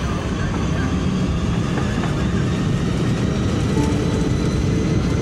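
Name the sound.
jumbo jet airliner engines during takeoff roll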